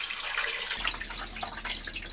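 Water pours in a steady rushing stream into a cooking pot holding a lamb's head and trotters, loud and close, with no one talking.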